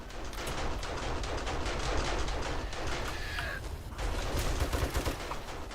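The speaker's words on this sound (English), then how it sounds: "everything runs up on the base, it's going to go ahead and wipe it out with those turrets" Automatic base turrets in 7 Days to Die fire steadily at a zombie swarm, producing dense continuous gunfire that fills the whole stretch without letting up.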